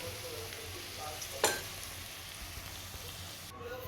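Onions sizzle steadily in a pan as chili powder goes in, a continuous soft frying hiss with one sharp clink of a spoon partway through.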